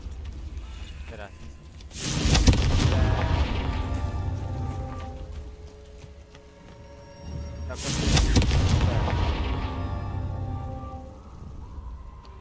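Two heavy blasts from the Confringo spell in Hogwarts Legacy, spaced several seconds apart, each a loud burst followed by a long rumbling decay.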